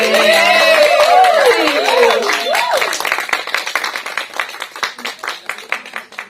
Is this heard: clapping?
yes